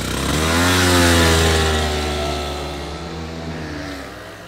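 A loud, close kart engine drones steadily in the pit lane with a strong low harmonic hum, swelling briefly then easing off slightly; no talking.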